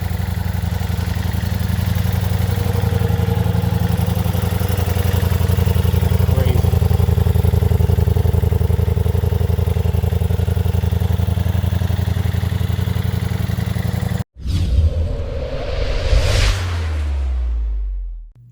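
A Ducati Diavel V4 motorcycle engine runs at a loud, steady idle close by, out in the rain. Near the end the engine note changes briefly, then fades out.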